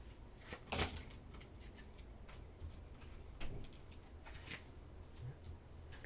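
Tarot cards are drawn from a deck, with soft papery slides and flicks. The card sounds come as a few light, close snaps spread among quiet handling noise, all at low volume.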